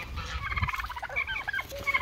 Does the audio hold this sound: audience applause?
no